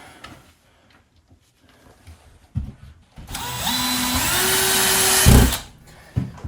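A power drill drives screws through drywall into studs during mobile home restoration, heard as a brief whir followed by a steady, rising motor whine lasting a couple of seconds, close and loud, ending with a thud.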